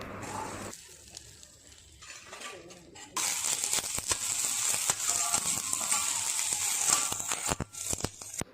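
Small onions, green chillies, turkey berries and curry leaves hit hot oil in a pan, a quiet start giving way to a loud, continuous sizzle with scattered crackles and spatula scrapes.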